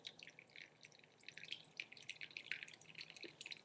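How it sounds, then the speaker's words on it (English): Tea is poured quietly from a gaiwan through a filter, a faint steady trickle with many small drips and splashes, heard close and soft with no talking. "pour the tea out on top of the filter"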